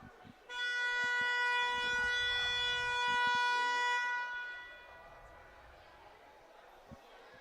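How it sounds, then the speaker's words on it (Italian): A loud, sustained siren blares for about four seconds at a women's Serie A roller hockey match in an indoor rink, then cuts off, leaving faint arena noise and a few distant knocks. "Suonata la sirena."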